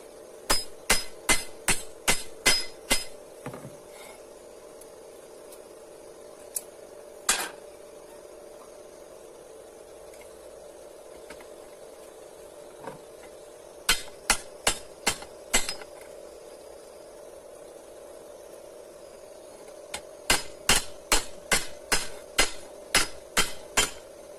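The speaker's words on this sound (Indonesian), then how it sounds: "dicoba diluruskan pakai palu karena landasan saya nggak terlalu panjang" A hammer strikes a steel-plate mandau machete blade to straighten it, ringing metallic blows in quick bursts of about seven or eight at the start, near the end and mid-clip, with a few isolated strikes between and no talk.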